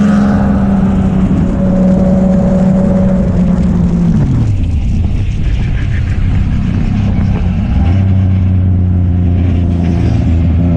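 A motorcycle is hit from behind on a race track: a loud, steady high-revving engine whine drops sharply in pitch, then gives way to a few seconds of rough, chaotic noise before a lower engine drone returns.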